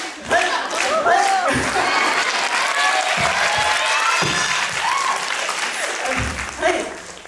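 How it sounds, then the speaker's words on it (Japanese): An audience claps in rhythm during a live Japanese presentation, a dense, continuous patter of many hands with voices calling out over it. "みんなじゃあリズムよく皆さん拍手で"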